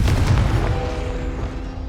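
Confringo fire-blast spell going off in the Hogwarts Legacy video game, a loud booming explosion up front that decays into a rumbling, ringing tail over about two seconds.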